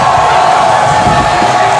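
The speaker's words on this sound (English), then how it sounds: "Crowd getting into it here." A crowd at a high school football game, CR Kennedy at Muscatine, roars loudly in a sustained wash of cheering and shouting.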